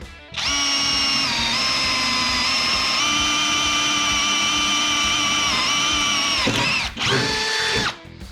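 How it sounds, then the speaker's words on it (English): A 20V brushless cordless drill whines steadily at high pitch for several seconds while drilling into an aluminum bar, stops briefly, then revs again and cuts off. "now we're gonna try to drill into this aluminum bar here"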